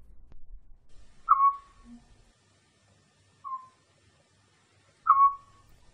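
Recorded birdsong played back in a sound installation: three short bright bird calls, the first and last stronger with a faint lower note after the first, spaced apart over quiet room ambience.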